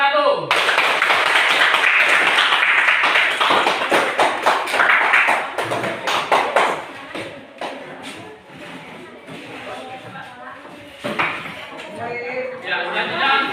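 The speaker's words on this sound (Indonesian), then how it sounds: "beri aplaus untuk kelompok 1" Audience applause for a presenting group in a classroom-style session, loud dense clapping at first that thins into scattered claps and taps, with a brief renewed burst near the end.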